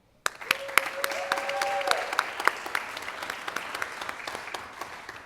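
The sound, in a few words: audience applauding honorees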